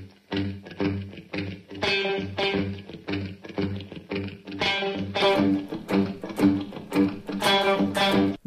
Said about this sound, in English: Listen to the guitar by itself.